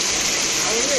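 Heavy rain with thunder and lightning pours down in Gobichettipalayam, Tamil Nadu, a dense, steady hiss that fills the whole short moment, loud and close, with a brief voice rising faintly over it.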